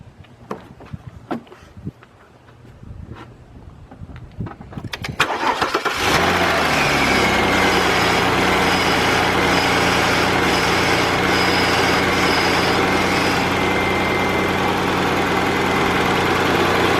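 A 2001 Saturn L300 cranks briefly and catches after a few seconds of quiet handling noises, then settles into a steady, loud, even idle that runs on for the rest of the clip.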